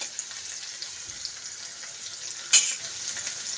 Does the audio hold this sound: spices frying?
yes